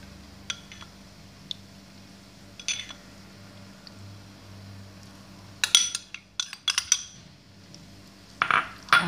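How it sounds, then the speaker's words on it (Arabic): Utensils mix potato salad ingredients with sauce in a bowl, giving sparse, close clinks and scrapes that turn into a quicker cluster of clatters near the end in a quiet kitchen. "غندمج هاد العناصر جيدا"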